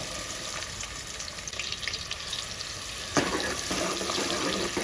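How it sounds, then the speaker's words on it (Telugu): Chopped onions frying in hot oil for Telugu-style fish curry give a steady, fairly faint hiss and sizzle, with a brief louder burst of crackle partway through. "ఉల్లిగడ్డ వేసుకుంటుండా."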